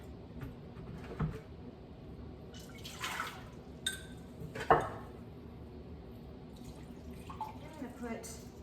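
Vinegar for pickle brine being poured into a pot for dill relish, soft liquid splashes and dripping in short bursts with clinks of kitchenware, quiet and close, between spells of talk.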